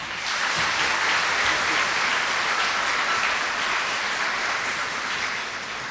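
Sustained audience applause at the Červena ruža folk music festival, a dense steady clatter of many hands clapping at even loudness throughout, with no voices over it.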